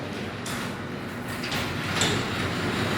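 A LiftMaster 8900W garage door closes with a steady, fairly loud rolling rumble of its rollers, a few faint clicks over the top, and no voices.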